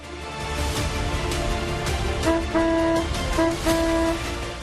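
A vehicle horn honks in several short blasts over the steady rumble of busy street traffic.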